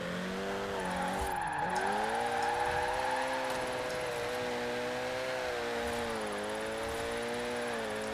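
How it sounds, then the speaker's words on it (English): A drift car in Forza Horizon 4 slides under a yanked handbrake, a steady engine drone wavering in pitch while the tires skid, constant and moderately loud with no voices. "it has enough power for me to be able to do a little handbrake slides, I guess, with it"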